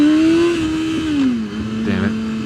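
A motorcycle engine revs close and loud during a botched wheelie attempt, its pitch holding, dipping and then steadying without any voices.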